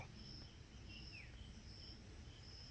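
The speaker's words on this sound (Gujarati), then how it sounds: "તમરા બોલે છે કલશોર" Crickets chirp steadily in a quiet Gir forest setting, a high, continuous trill with no voices.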